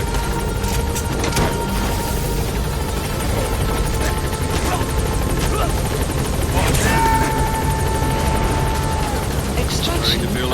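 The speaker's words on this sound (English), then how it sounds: "Board the chopper when you're ready for a mission." Helicopter rotor noise in the video game Metal Gear Solid V: The Phantom Pain during an extraction, a steady loud drone filling the background under game music and effects, with a rising whine partway through.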